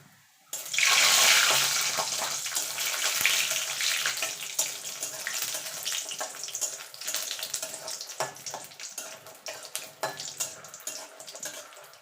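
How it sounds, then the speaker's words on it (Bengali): Lentil dumplings (bori) hit hot oil in a kadai for a vegetarian potato-eggplant curry, raising a loud, steady bubbling sizzle that starts abruptly and settles into crackling with scattered pops. "প্রথমে বড়িগুলোকে আমি ভেজে নেব"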